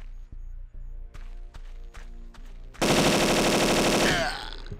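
Gunfire in the shooter game Cold Zero: The Last Stand: several sharp separate shots over a low droning background, then a dense, loud burst of rapid automatic fire lasting over a second before it cuts off.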